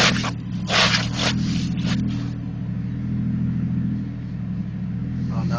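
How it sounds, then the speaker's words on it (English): A truck's wheel spinning in place, a steady loud engine drone and low rumble with a rising whine and scraping hiss over it, continuous throughout. "Now this wheel spin."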